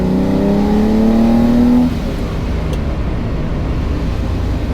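A green Ferrari 330 GTC drives by on a short test run after reassembly, its engine note rising loudly under acceleration, then dropping off into a steady, quieter road rumble.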